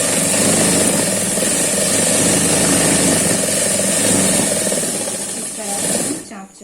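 A sewing machine runs a line of stitching along the lining of a kurti jacket, a loud continuous whirring motor drone that slows and stops near the end.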